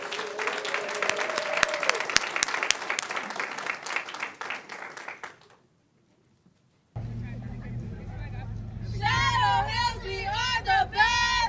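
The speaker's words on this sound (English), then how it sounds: "Please give them a round of applause." Board of trustees meeting audience applauding staff, a dense sustained clapping that fades to near silence midway, followed by a different passage with background hum and voices.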